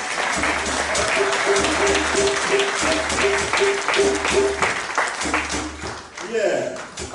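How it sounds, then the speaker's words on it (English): Audience applause at a Marcus Garvey community service award ceremony: steady, dense clapping from a crowd under a looping music bed, with a voice breaking in near the end. "Round of applause, please."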